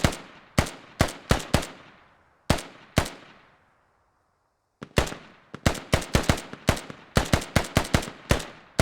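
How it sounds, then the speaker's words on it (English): Small arms gunfire exchanged in the video game Squad, with sharp, loud single shots and quick bursts cracking out in irregular clusters, one pause of near silence, then a busier string of rapid reports. "Militia and Russia trading small arms"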